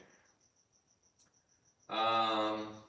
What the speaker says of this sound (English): when there's a cricket inside here, it just resonates